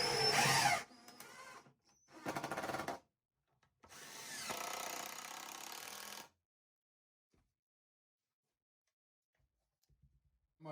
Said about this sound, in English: I'm just going to add some screws in here.